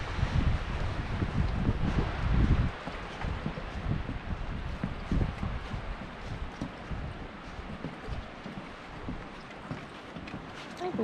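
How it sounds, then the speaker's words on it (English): Strong wind roars and buffets the microphone outdoors on choppy, white-capped water in Northern Ontario, a loud continuous rumble with gusts throughout. "man, it has gotten windy out."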